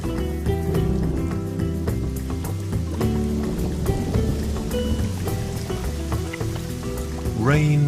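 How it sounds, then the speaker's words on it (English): Rain falls steadily in a natural setting where birds build mud nests, a constant patter beneath a narrator's voice and a background music bed. "Rain is essential for builders who work with mud."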